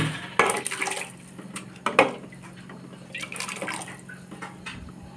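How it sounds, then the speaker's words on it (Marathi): Rice tipped into a pot of salted water at a rolling boil, giving a couple of close splashing bursts and a soft patter of grains over steady bubbling, with no one talking. "आता तांदूळ टाकायचे."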